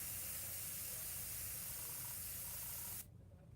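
A spray gun hisses in a steady, continuous burst for about three seconds, then cuts off abruptly, leaving quieter background noise.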